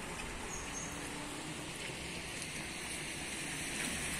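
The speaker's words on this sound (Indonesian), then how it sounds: "Tapi kalau sekarang hujannya sudah mulai deras." Rain falls steadily at a house in Probolinggo, a dense, even hiss of water pattering on surfaces that holds constant throughout, with no voices.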